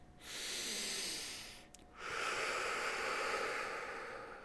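Two long, close breaths drawn through the nose and mouth during a guided chest meditation, airy hiss swelling then fading, a short pause, then a second breath, no talking.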